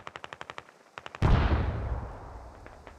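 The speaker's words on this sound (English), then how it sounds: "Some more explosions going off in the distance." A burst of rapid video game gunfire crackles, then a loud explosion booms and rumbles away, followed by faint distant pops.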